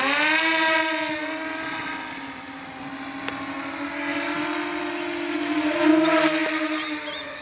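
A racing drone with upgraded motors and ESCs flies overhead, giving a steady, high-pitched motor whine with many harmonics that rises and falls slightly in pitch as it passes, fairly loud and continuous.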